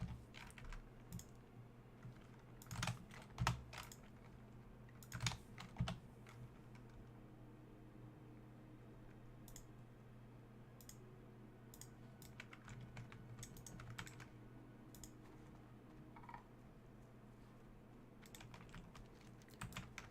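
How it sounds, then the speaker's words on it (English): Computer keyboard clacking from steady typing, soft, close keystrokes in irregular bursts over a low background hum, with a few louder clusters of quick taps. "You guys are going to be hearing a shit ton of clacking."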